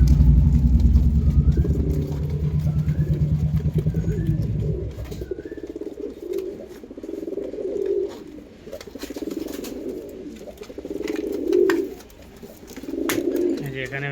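Andra and Rampuri pigeons coo in repeated throaty bursts close by. A loud low rumble fills the first few seconds, then the cooing continues alone at moderate volume.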